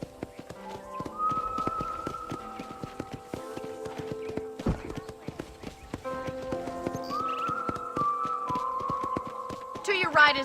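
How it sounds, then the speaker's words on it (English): Horse hooves clip-clopping in the Red Dead Redemption video game as a rider tours a ranch, a steady trotting rhythm under game music and a narrator's speech, with a brief whinny near the end. "I picked out a fine horse for you."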